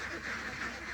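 Ducks at a farm quack in a quiet, repeated rhythm, two or three nasal calls heard from a short distance with no talk over them.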